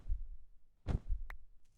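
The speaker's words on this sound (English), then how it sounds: "I love this heartbeat. That is the coolest sound." Heartbeat sound effect in the Minecraft modpack FTB Skies: a few low, soft thumps spaced about a second apart, with a brief bright chime-like tone in between and no voices.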